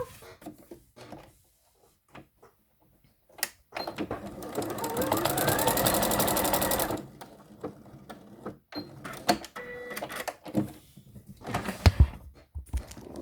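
A sewing machine stitches an absorbency piece onto a cloth pad, running steadily for about three seconds, framed by scattered clicks and handling noises, with a person talking around it.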